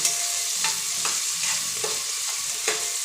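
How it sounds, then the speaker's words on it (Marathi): Onion and tomato sauté in a pan with a constant close, bright sizzle. A few soft stirring scrapes come at irregular intervals, and nobody speaks. "आता हे मी पूर्ण परतून घेते"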